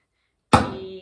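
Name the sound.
drum head taps and click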